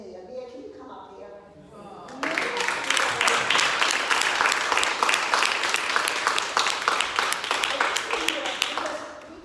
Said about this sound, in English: I really want to give a big round of applause to Mia.